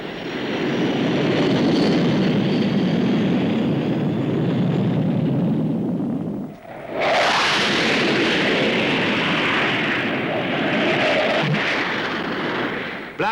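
A supersonic jet flies past at Farnborough Airshow, a type first flown in spring 1959: a loud, sustained engine roar that cuts out briefly midway, then returns with a harsher, brighter rush.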